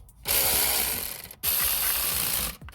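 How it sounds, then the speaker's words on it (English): A ratchet tightens the starter motor bolt on a 2006 Toyota Yaris, with two close, steady bursts of rapid clicking and a short pause between them. "the other one with the ratchet, if you've got a normal ratchet or electric ratchet, tighten up on it"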